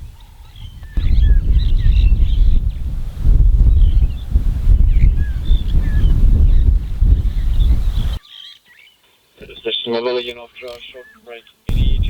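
Gusting wind buffets an open safari vehicle on a game drive, a loud roaring rush that comes and goes, then briefly drops away while a guide speaks and birds call faintly.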